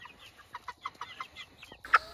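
Hungry chickens cluck in a quick, uneven series of short calls at close range, ending with one louder squawk, with no talking.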